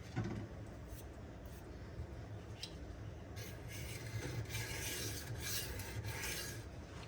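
A Cold Steel Swift knife blade strokes across DMD diamond sharpening stones in repeated gritty rasping passes, close and fairly quiet, the scraping growing brighter and more continuous midway.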